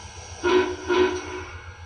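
Two short toots of an MTH model Union Pacific Big Boy steam locomotive whistle, the forward signal, evenly spaced, clear and close with a steady tone, then a faint hum lingering after.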